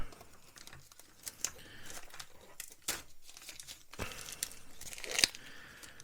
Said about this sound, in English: We'll just remove that tape.